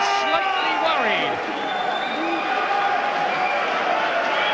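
Boxing crowd at a televised Dazzo Williams vs Roy Rutherford fight, a steady roar of cheering and shouts filling the arena, with a commentator talking over it throughout.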